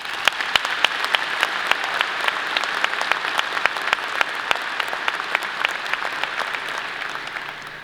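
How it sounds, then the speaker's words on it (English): Graduates at a university commencement ceremony applaud, a broad sustained wash of clapping from a large crowd with sharp individual claps popping out, fading slightly toward the end. "Give yourselves a round of applause for that."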